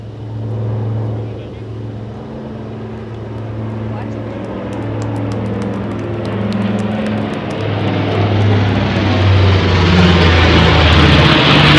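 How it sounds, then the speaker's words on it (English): Aircraft flyover at a Veterans Day parade, approaching from the east: a low engine drone starts faint and swells steadily louder over about twelve seconds, with crowd noise underneath. "our flyover's coming in from the east side"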